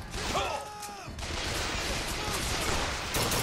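A turret opening fire in the video game Bioshock Infinite: a dense, continuous roar of rapid shots that fills most of the stretch, loud and close, with a player talking briefly at the start.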